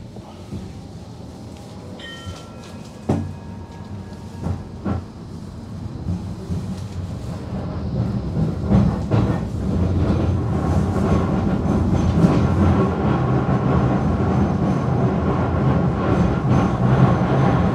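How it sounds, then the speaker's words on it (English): A Blackpool tram on the Fleetwood to Starr Gate line rounds the final bend. Rumble builds from a few early knocks into a loud, continuous roll of wheels and carriage noise, with brief tonal squeals near the start. "Just going round the final bend now on the journey from Fleetwood to Starr Gate on the Blackpool tram"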